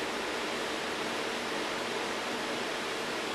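A small HHO gas micro torch flame hisses steadily while heating a thin metal laundry tub spigot, a constant broadband rushing sound, close and even, with no talking.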